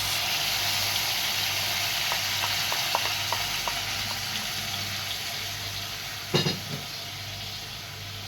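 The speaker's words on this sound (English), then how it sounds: "I'm going to add our blended tomatoes." Blended tomatoes poured into a broiler chicken stew set off a steady sizzle, with a few soft stirring clicks and one sharp splash-like burst near the end, and no one speaking.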